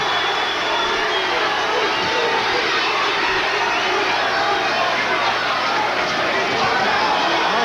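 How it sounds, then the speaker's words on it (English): Boxing arena crowd at a heavyweight bout roaring and cheering in a dense, sustained wash of noise, steady throughout with a commentator talking over it. "Gets the crowd excited."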